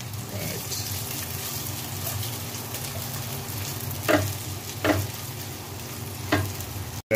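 Ginger, onion and garlic sizzle steadily in a hot pan, a continuous frying hiss with three sharp stirring scrapes near the end while someone talks throughout.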